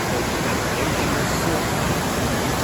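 A waterfall fed by milky glacier runoff thunders close by on the Pacific Crest Trail, a constant broadband rush of water with no break.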